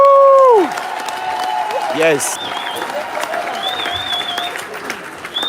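Crowd applause at a car-giveaway ceremony, spread-out clapping mixed with tonal effects and a short spoken reply, a moderately loud, continuous wash of hands under other sounds.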